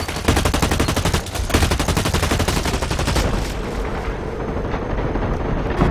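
Video game combat with dense rapid gunfire rattling continuously, loud and close, then thinning into a rumbling grenade blast and scattered shots toward the end.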